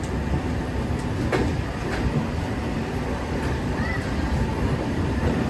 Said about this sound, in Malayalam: ട്രെയിൻ ഇപ്പോൾ ദർഭംഗ റെയിൽവേ സ്റ്റേഷനിലേക്ക് എത്തിയിരിക്കുകയാണ്